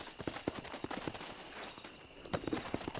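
Horse hooves clip-clop in Red Dead Redemption on Nintendo Switch, an uneven walking rhythm of faint, distinct thuds with a short lull midway before the steps resume.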